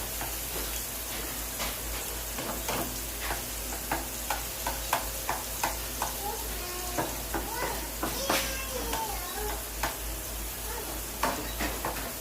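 A tomato frying in a pan for a breakfast of fried sausage and bread: a continuous close sizzle with regular scraping strokes of a spatula stirring through it.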